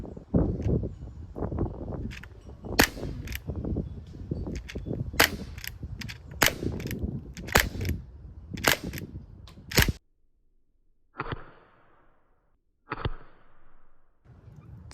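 An airgun pistol fires pointed pellets at around 500 feet per second, a rapid string of sharp, close snapping shots with clicks in between, then two more spaced shots after a quiet pause.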